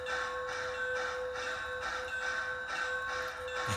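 Bells on an outdoor model garden railroad train ring in a quiet, steady pattern of repeated pulsing tones.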